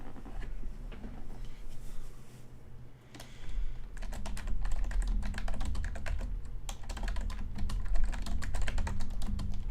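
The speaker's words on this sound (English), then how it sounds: "I'm gonna fucking type a comment on here." Keys on a computer keyboard clatter in steady bursts of typing as a comment is written, close and fairly loud, with a short pause near the start and no talking.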